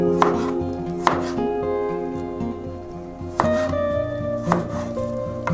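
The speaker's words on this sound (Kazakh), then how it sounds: "Енді қиярымызды дайындаймыз, кесеміз." A knife chops cucumber on a cutting board for a chicken heart salad, with sharp, irregular strikes standing out over steady background music or hum, several distinct chops spaced across the moment.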